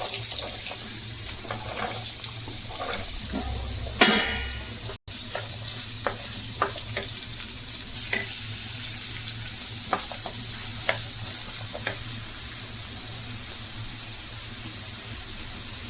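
Radish pieces fry in a pan with a steady low sizzle and hiss, broken by a burst of stirring noise and scattered scraping clicks, close and alone with no talk.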